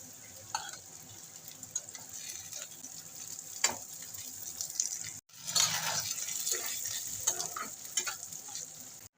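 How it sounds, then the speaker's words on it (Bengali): Bitter gourd slices fry with whole green chillies in a pan, a continuous oily sizzle punctuated by stirring scrapes and a short pause midway as the pieces are turned, close and alone without talk. "এক পাশে ভাজা হয়ে গেছে আমি উল্টে দিচ্ছি"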